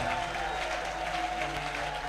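Steady applause from a crowd, continuous and dense throughout, with a faint murmur of voices underneath.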